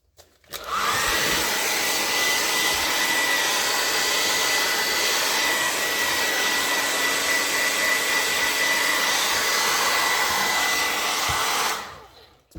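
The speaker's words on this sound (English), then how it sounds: "Where's my blow dryer?" A hair dryer blows steadily and loudly for about eleven seconds, used to dry a damp wallpaper junk journal page, with no talk over it.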